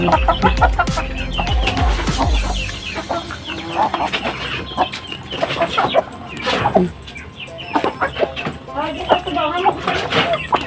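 Backyard chickens cluck and squawk busily at morning feeding on a rural farm, with rooster-like calls, close and continuous, while people talk nearby.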